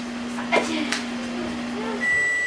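A microwave oven hums steadily under brief voices, then the hum stops and a single high beep rings out.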